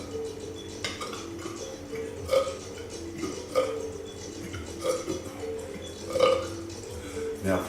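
A person burps during a guided qigong breathing exercise, producing several short belching sounds at an uneven pace amid a quiet room with faint ticks and background murmur.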